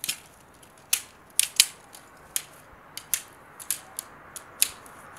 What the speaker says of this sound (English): Next, we'll take one of the orange poles and unfold it.